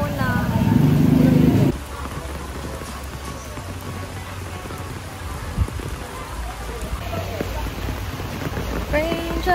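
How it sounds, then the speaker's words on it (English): Rain falls steadily on surfaces at night, a continuous close hiss and patter that runs throughout, with a louder stretch at the start and occasional faint voices underneath. "Raindrops keeps falling on my head."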